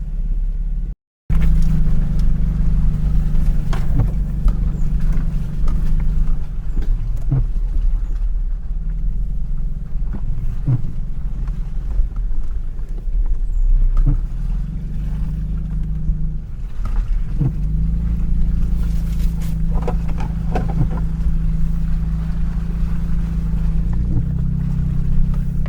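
Off-road vehicle on a multi-day Ozark overland trail grinding through a deep mud hole, a loud continuous low engine drone with rumbling and splashing surges, close and steady throughout after a brief dropout at the start.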